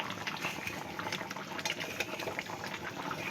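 Fish curry simmers in a loosely covered pan over a medium flame, a soft continuous bubbling and hiss with small irregular pops, quiet and steady with no voices.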